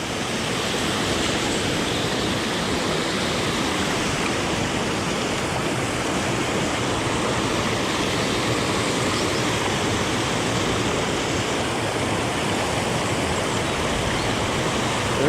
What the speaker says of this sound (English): That's quite a waterfall.